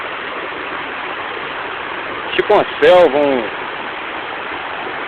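A waterfall surrounded by jungle-like vegetation gives off a steady broadband rushing hiss throughout, with someone briefly speaking over it partway through.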